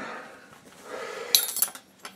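Metal cutlery clinks against a warm oven-heated plate as both are carried and handled, a few sharp clinks and rattles over soft background handling noise, close and moderately loud, with no one talking.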